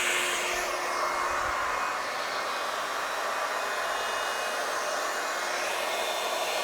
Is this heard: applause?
no